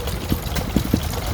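A Bamford 2.5 horsepower stationary engine running at a steam rally, a loud, close, steady chugging with regular low thumps.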